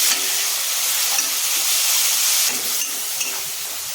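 Sizzling fills a hot pan of moong dal with fish head as water hits it, a loud, steady broadband hiss lasting throughout with a slight dip midway.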